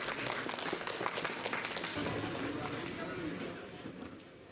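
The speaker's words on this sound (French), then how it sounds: "sous les applaudissements" Applause at the end of a preparation hour at a national selection for the 9th Mondial du Pain bakery competition, a dense patter of clapping that gradually fades, mixed with a voice talking over it.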